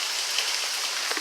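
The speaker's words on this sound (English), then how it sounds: "it's pouring outside!" Heavy rain pours down outdoors during a thunderstorm, a thick steady hiss of drops striking surfaces nearby, with a few louder splats, brief and without speech.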